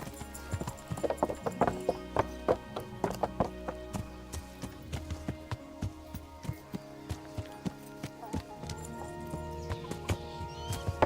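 Horse hooves clip-clop at a steady riding pace in the Kingdom Come: Deliverance video game, sharp regular clops that come close and clear over a soft musical background.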